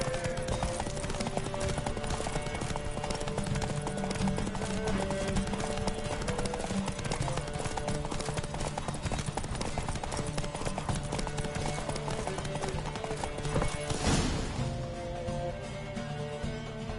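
Horse hooves galloping in a race in The Witcher 3 video game, a fast continuous clip-clop rhythm at steady loudness with game music beneath, ending in a brief swell near the end.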